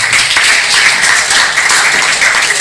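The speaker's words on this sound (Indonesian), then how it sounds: "Tepuk tangan untuk yang beli rokok." A loud, dense burst of applause fills a junior high school hall during an anti-drug outreach session, steady and continuous throughout.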